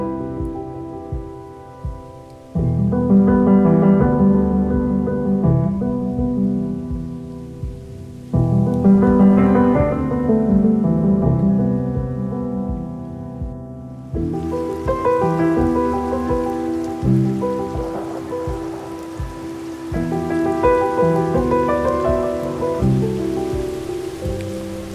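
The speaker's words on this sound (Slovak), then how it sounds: "Husto prší" Heavy rain falls steadily in the mountains, a dense, close hiss that continues without a break throughout, with occasional surges in intensity and no voices.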